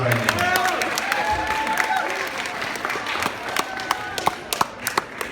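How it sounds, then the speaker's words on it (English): School audience applauding as ROTC cadets are invited up, a broad sustained round of clapping with scattered cheers and voices, thinning toward the end into a few sharp, closer individual claps. "Give them a round of applause right now"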